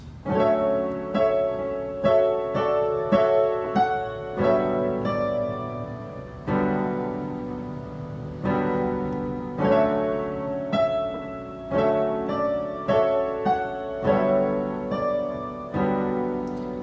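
Piano chords ring out together, struck one after another at a moderate, even pace, each sustaining briefly before the next, with no talking.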